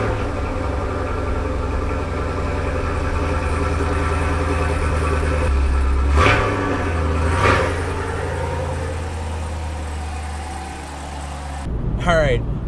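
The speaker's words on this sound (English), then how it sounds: "Today is the last day for a cold start on the Camaro with the old exhaust" A 2017 Chevrolet Camaro SS V8 idles on its stock exhaust after a cold start, a deep steady rumble with two brief revs midway and a louder burst at the end, while people talk over it.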